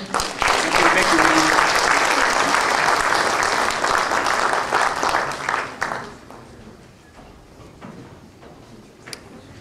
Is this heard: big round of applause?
yes